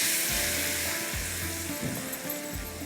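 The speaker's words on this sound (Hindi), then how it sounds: "थोड़ा सा इसको पहले फ्राई करूँगी" Flour frying in butter and oil in a large pot gives a steady, close sizzle with soft stirring scrapes at intervals, and no talk.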